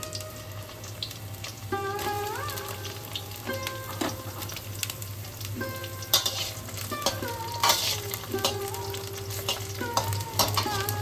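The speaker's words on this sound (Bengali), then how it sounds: "ওই তেলেতে আমরা বেগুনটাকে ভেজে নিচ্ছি।" Eggplant frying in hot oil for a mirch jhol, a steady loud sizzle throughout with scattered clatter and scraping of a utensil and short tonal clinks of metal on the pan, no talk.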